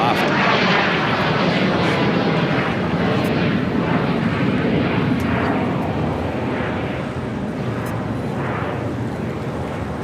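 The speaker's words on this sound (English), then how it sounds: "Swiss Flight 40, the 777-300ER, about to touch down at 25 left." A Swiss Boeing 777-300ER from Zurich touches down on runway 25 left at LAX, its engines giving a loud, continuous broadband roar that holds steady for the whole stretch and eases slightly near the end.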